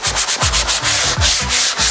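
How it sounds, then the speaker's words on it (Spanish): Medium-grit sandpaper scuffs a kitchen countertop before painting, making close, loud back-and-forth strokes in a steady rasping rhythm, roughly two or three strokes per second. "vamos a ir lijando para ir rayando un poquito la superficie"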